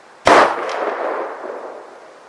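A single sharp gunshot from a Remington Model 700 rifle with a lightened trigger cracks at an outdoor range, followed by a long rolling echo that fades over about two seconds.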